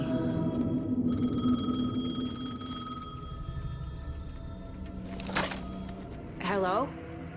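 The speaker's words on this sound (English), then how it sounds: "The payphone was ringing." A payphone rings inside the video game Alan Wake II, a steady electronic trill repeating through the first few seconds over a dense, moody ambient backdrop, followed by a brief sharp clatter and a sweeping tonal swoosh near the end.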